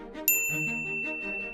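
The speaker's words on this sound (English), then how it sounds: "Pavlov rang a bell just before feeding time." A single bright bell rings once at feeding time and its clear metallic ring lingers over soft background music.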